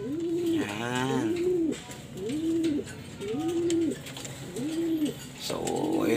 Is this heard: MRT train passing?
no